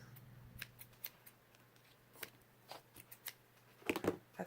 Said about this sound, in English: I really love these Scotch scissors